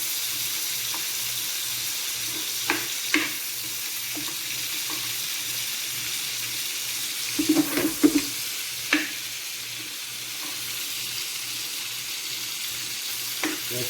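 Scallops and steak seasoned with curry brown in a hot pan, a steady low sizzle running throughout with occasional scrapes and clinks of a utensil, fairly quiet and with no talking.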